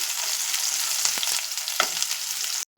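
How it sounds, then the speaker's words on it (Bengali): Onions fry into crisp golden birista in a pan for a chicken muri ghonto recipe, a steady close sizzle with a few stirring scrapes, then it cuts off abruptly near the end. "এখানে পেঁয়াজ বেরেস্তা করা হচ্ছে, একদম বেরেস্তার মতন ভাজা হচ্ছে।"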